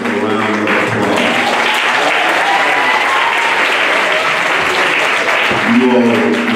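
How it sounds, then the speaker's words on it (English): Loud, sustained applause from a church congregation in a Baptist service, dense clapping filling the room with voices mixed in. "Give yourselves a round of applause."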